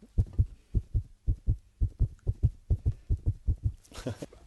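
A steady run of muffled paired thuds from a stretched T-shirt mimics a heartbeat, close and even, ending in a brief rustle.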